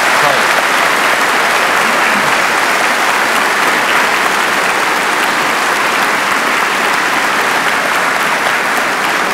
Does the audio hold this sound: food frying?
no